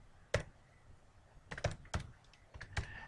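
A search term is typed on a computer keyboard as a handful of sharp, close key clicks in irregular bursts over a quiet room background.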